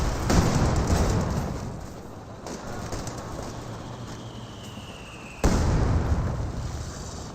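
Panzerfaust in the WWII strategy game Company of Heroes 2: a sharp launch blast, then a rumbling fade under a faint whistle and a second sudden explosion near the end.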